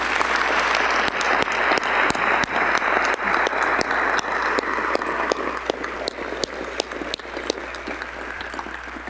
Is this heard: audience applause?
yes